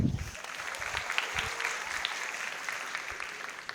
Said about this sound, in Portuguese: Obrigado, salve de palmas